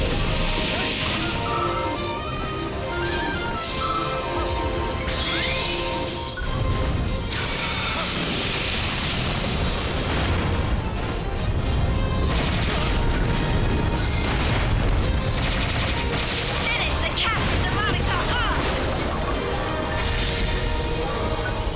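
A Rocket Punch attack smashes through enemies in Phantasy Star Online 2, with loud continuous crashing impacts and booming hits layered over busy game music and effects.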